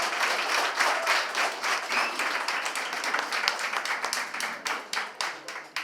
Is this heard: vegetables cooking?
no